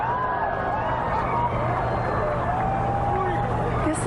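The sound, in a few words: crowd reacting during total solar eclipse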